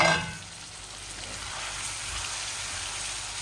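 Chicken frying in an aluminum pan: a short stirring clatter at the start, then a steady, soft sizzle that continues alone.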